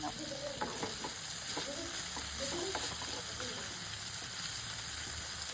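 Ridge gourd pieces fry in a pan with a continuous soft sizzle. Periodic stirring clatters and scrapes sound under it, and there is no talk.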